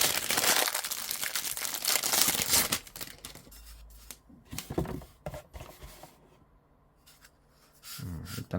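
Plastic wrap crinkles and rustles as a LocknLock 505 ml thermos is unboxed. Dense, close crackling handling noise comes in bursts, heaviest at the start, then breaks into sparser rustles and pauses.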